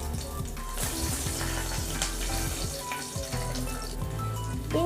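Bay leaf, cloves, peppercorns, green chilli and garlic frying in hot oil: a dense, steady, close sizzle that crackles throughout with no voices.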